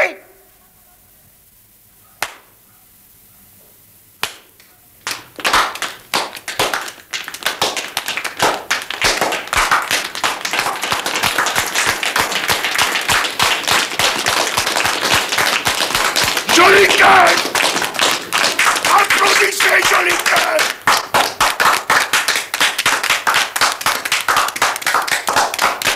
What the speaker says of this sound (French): C'est pourquoi je vous demande de l'applaudir très fort, de l'applaudir à vous en écorcher les mains